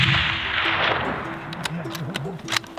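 A rifle fired at a bull elk on a New Mexico hunt: sharp, cracking reports and echoes heard outdoors at a distance, with a voice-like hum running underneath.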